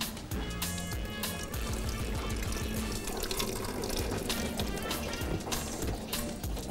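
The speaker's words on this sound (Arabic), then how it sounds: "بس اصفي منها الميه" Water from soaked yellow lentils drains steadily into a sink, a continuous close splashing and trickling rush that stays loud throughout, with kitchen clatter underneath.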